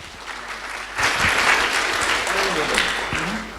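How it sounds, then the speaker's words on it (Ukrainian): Audience applause at a conference breaks out and holds steady, a dense wash of many hands clapping with a few voices mixed in. "Давайте підтримаємо їх оплесками."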